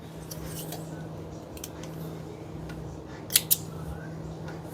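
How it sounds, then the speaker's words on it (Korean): Small thread snips cutting loose threads on a handmade unlined zipper pouch, two quick crisp snips close to the mic over a quiet room hum. "쪽가위질 해주면 끝입니다."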